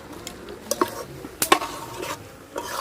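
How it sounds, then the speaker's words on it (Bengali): A spoon works through jujube berry pickle with spices in a pot, giving scattered scraping stirs and a few sharp clinks of metal against the vessel, close and fairly quiet, with no talking. "মশলা দিয়ে ভালোভাবে বড়ইয়ের সাথে মিশিয়ে নিচ্ছি মশলাটা"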